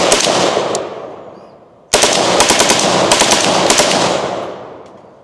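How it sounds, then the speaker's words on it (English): Loud, close gunfire from an AR-style UBAR rifle: one sharp shot rings out and decays, then a rapid string of shots empties the rest of the magazine, echoing outdoors. "run them left, then run them right, and then we'll expend the rest of the mag on the big target there"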